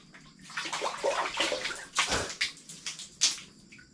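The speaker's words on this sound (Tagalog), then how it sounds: "unang buhos dito sa banyo" Cold water poured over a body in a bathroom, splashing in repeated uneven dousings at close range, with loud bursts of spatter and no talk.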